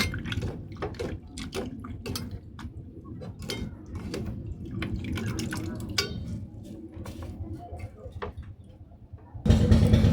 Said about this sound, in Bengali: আলুটা খুব ভালো করে কচলে কচলে জল পাল্টিয়ে তিনবার ধুয়ে নেব